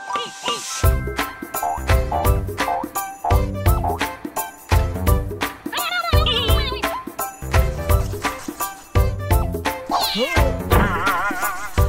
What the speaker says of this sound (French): miauler comme un chat